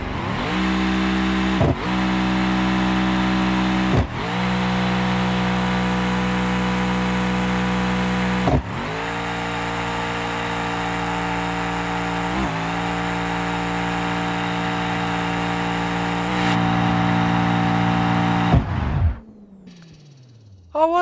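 A car engine in BeamNG.Drive, fitted with compound boost and with its rev limiter removed, revs hard in long sustained pulls with abrupt shifts in pitch between them, loud and close, then cuts out near the end; no one speaks.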